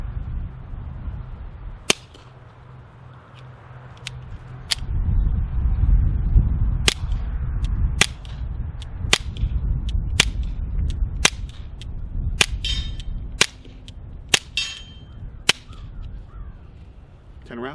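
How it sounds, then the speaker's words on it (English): Suppressed shots from a Ruger Mark IV Light pistol with a Dead Air Mask HD silencer firing Aguila standard velocity ammunition, about ten sharp cracks spaced roughly a second apart outdoors, with faint talk and background noise. "we got the Ruger Mark IV Light with the Dead Air Mask HD, running some Aguila standard velocity"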